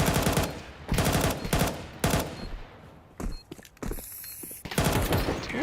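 Gunfire from Counter-Strike during a BLAST Bounty Malta esports match: several bursts of rapid shots crackle in short clusters, fairly loud and close, with brief quieter gaps between them and no talk over it.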